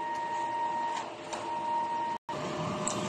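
A DTF printer runs a print head cleaning cycle, giving a steady mechanical hum with a faint whine, a brief cutout partway through, and soft clicks, heard up close with no talking.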